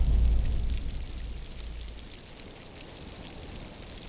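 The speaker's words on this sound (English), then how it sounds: "the wind's changed direction, and that's just driving more rain at me now" Wind-driven rain sweeping across an exposed spot in Glencoe in the Scottish Highlands, a steady wash of rainfall with a low rumble of gusts that is strongest at the start and then settles into a constant hiss, with no talking.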